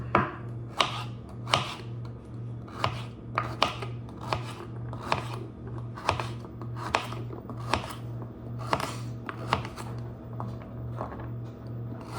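Carrots being peeled in a kitchen, a run of quick scraping strokes repeating at an uneven pace over a steady low hum, close and fairly quiet, with no talking.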